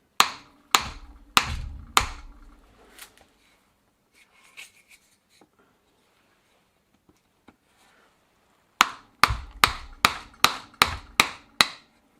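Sharp hammer strikes on a trim piece while removing a cloth chain-guard from an old Dutch Gazelle bicycle: several quick strikes at the start, a quiet gap with faint clinks, then a rapid run of loud hits.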